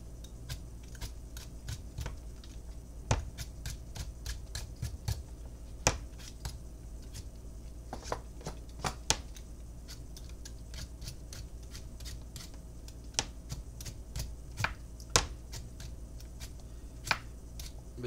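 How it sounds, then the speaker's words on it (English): Turnips being peeled give a long series of sharp, scattered scraping clicks and snaps, close and moderately faint, irregular in rhythm over a quiet background with no talking. "Nobody likes peeling turnips."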